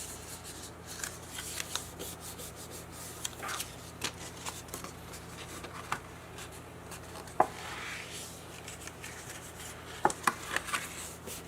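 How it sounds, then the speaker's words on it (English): Paper folded accordion-style by hand for seasonal paper branches, soft close creasing and rustling with a few sharp crinkles and taps, quiet and without speech. "Basically, you're going to accordion fold all of these."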